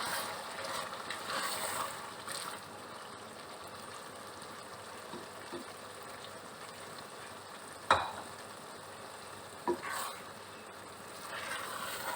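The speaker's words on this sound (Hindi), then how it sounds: "दाल को मसालों में अच्छे से मिक्स करेंगे। इसे भी भूनेंगे मसालों के साथ 1-2 मिनट।" Chana dal stirs and fries with spices in a pan, a steady soft sizzle with occasional scraping clinks of the spoon against the pan, close and moderately quiet.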